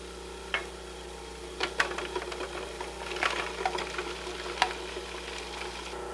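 A Cuisinart DLC 7 or 8 series food processor whirs with its metal blade as shallots drop through the small feed tube, a quiet steady motor hum broken by several sharp ticks and clatters.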